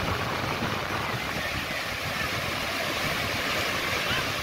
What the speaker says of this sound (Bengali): সমুদ্রের ঢেউ।